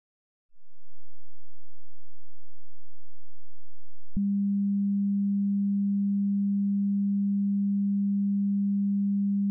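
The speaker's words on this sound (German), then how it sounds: "Und nun können wir schon hören, wie FM klingt." A steady synthesized tone hums alone, starting as a low faint drone and then jumping to a louder, brighter buzzing pitch that holds unchanged.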